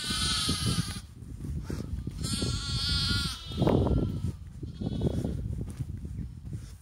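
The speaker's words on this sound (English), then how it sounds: "some lambs and sheep." Lambs and sheep bleat repeatedly in a spring pasture, several overlapping calls of varying pitch, some near and loud, others farther off, with no one talking.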